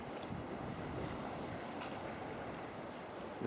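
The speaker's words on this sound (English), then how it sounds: "It's coming in north, that wind." Steady wind roars across the microphone at sea while sea kayaking, with a broad, constant rush and faint wave wash beneath. The wind is continuous and fairly loud, and no voices are heard.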